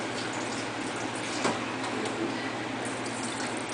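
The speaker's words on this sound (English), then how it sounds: "Then I take my butter over to my sink again, and I just rinse the butter, start rinsing it right there in the sink." Water runs steadily from a kitchen sink tap as homemade butter is rinsed beneath it, a constant close splashing flow with a brief louder splash near the middle.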